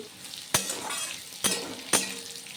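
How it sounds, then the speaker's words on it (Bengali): Bitter gourd frying in oil in a pan gives a steady sizzle, with three sharp scrapes of a spatula as it is stirred. "উচ্ছে প্রায় ভাজা হয়ে গেছে দেখুন"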